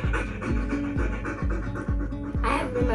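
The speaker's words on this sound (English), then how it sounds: "make a sound of a dog" Rhythmic, fast panting like a dog breathing with its tongue out, played by a voice assistant, about six regular huffs in a row, close and clear, ending with a brief hiss.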